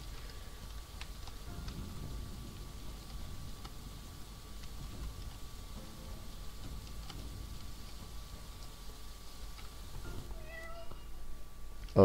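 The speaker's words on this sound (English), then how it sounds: "Oh no, kittens!" Kittens in the Dwarf Fortress video game, heard as faint intermittent meowing over a quiet steady background, with a few brief game tones near the end.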